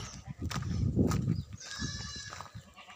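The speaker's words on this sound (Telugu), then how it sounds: "ఇవన్నీ మేకలు" A goat gives a drawn-out, wavering bleat over rustling and shuffling sounds nearby, fairly close and clear, at a house with a garden.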